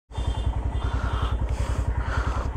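A heavily loaded motorcycle on a Zanskar expedition runs close by, its engine thumping in a steady, fast rhythm of loud pulses with no talk.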